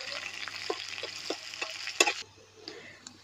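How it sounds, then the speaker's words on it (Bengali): Dried chillies, chopped garlic and onion frying in a pan for a pumpkin and split chickpea dal, a steady close sizzle with faint stirring ticks, quieter over the final second. "ভালো করে ভেজে নিব।"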